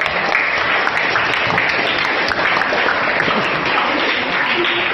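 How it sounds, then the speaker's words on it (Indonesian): Students in an Indonesian classroom applaud together, a steady, dense wash of many hands clapping that holds at an even level throughout, with no voices standing out. "Tepuk tangan dong buat kita."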